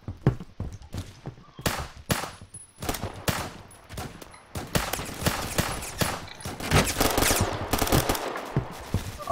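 Sniper rifle shots fired in the Roblox video game, a rapid barrage of sharp, loud cracks and bursts that fills the whole stretch, dense and continuous near the end.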